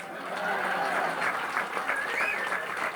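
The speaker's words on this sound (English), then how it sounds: "How about a round of applause for the suit?" Steady applause from a crowd at a fire and lifeguard appreciation dinner fills the space, a dense wash of clapping that holds evenly throughout.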